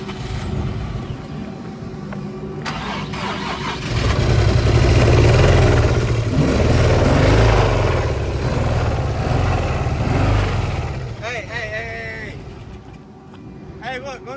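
A damaged car from an insurance auction idles up close, its engine swelling into a louder, rough, uneven running stretch with a faint possible rattle, before easing back down while voices talk over it.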